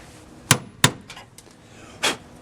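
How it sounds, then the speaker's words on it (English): A sledgehammer strikes a nail set against a van's front door hinge pin, giving a few sharp metallic hits, two close together then one more after a pause, loud against a quiet background. "I got a nail set and a sledgehammer."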